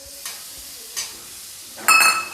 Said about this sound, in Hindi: मैं डाल दूंगी दही